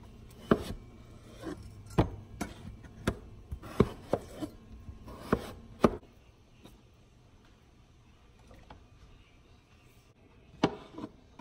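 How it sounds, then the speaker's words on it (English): A knife cuts potatoes on a board in a string of irregular, sharp chops, close and fairly quiet, with a pause midway before a final few cuts. "My water is already boiling for my potatoes, so I need to get cutting them so I can throw them in there."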